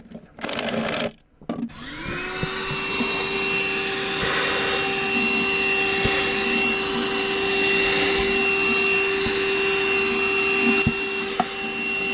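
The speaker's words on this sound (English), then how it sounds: "There's a great vacuum." A vacuum cleaner runs steadily and loudly during boat work on a Luhrs 28, starting after a brief burst of noise and holding a constant whine to the end, with no talking.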